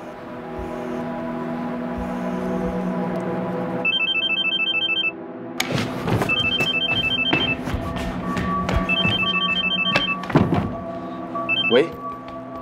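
A mobile phone ringtone plays in a classroom in repeated bursts of a pulsed electronic melody, interrupted by thumps and a voice speaking over it.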